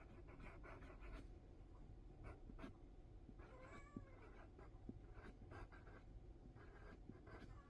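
A cat meows several times over steady low background noise, with scratchy sounds like writing in between.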